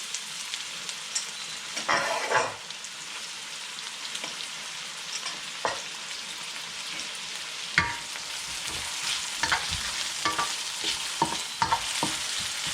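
Chopped garlic and onion sizzle steadily in a hot pan for a Kapampangan kilayin, with broad frying hiss throughout and a few sharper stirring scrapes and clacks of a utensil against the pan; no one speaks.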